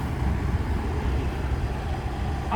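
A brush cutter engine runs at steady revs, a dense continuous drone with no clear start or rev swells, loud and close throughout.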